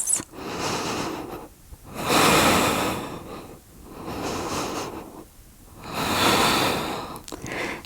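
Slow, deep breaths during a yoga flow for the splits, long inhales and exhales alternating in a steady rhythm, close and fairly loud with brief quiet gaps between them.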